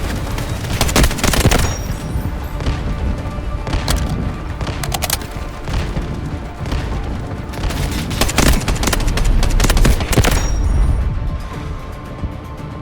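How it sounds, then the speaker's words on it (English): Artillery barrage and gunfire in the video game Delta Force: Hawk Ops, a dense continuous roar of booming impacts and rapid shots, loud and close throughout with repeated heavier blasts. "Artillery ready for barrage."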